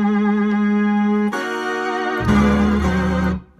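Sustained HugoBass synth bass notes played alone: a steady held tone, then a deeper, fuller note that swells louder before cutting off sharply.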